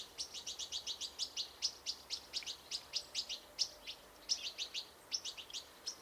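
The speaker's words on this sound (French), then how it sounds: "Les oiseaux y abondent" Small birds chirping in a garden, a rapid run of bright, repeated tweets in quick bursts, fairly close and clear over a quiet background with no talking.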